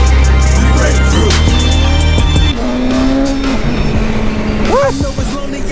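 A 2023 BMW M1000R motorcycle engine revs hard and close, the pitch climbing through gear changes and holding near its limited rev ceiling, with a loud, steady roar and wind rush.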